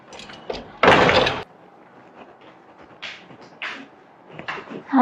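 A door opening and closing as a visitor enters a home: one loud, sustained bang near the start, then quieter knocks and shuffling nearby.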